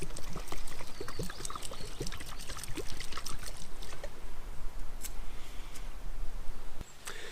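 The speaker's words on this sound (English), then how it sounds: "I want to add some water too, just to be safe." Water pours and trickles steadily onto a campfire for several seconds, a close, continuous splashing wash that cuts off near the end.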